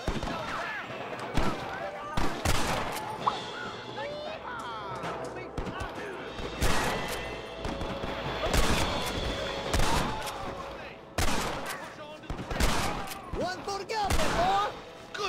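Sporadic gunshots in the Western game Red Dead Redemption, sharp loud cracks scattered irregularly over game music and ambience, with voices talking in between.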